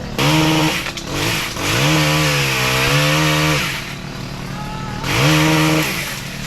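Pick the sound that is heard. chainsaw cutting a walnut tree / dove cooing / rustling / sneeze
chainsaw cutting a walnut tree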